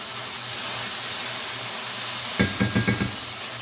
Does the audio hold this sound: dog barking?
no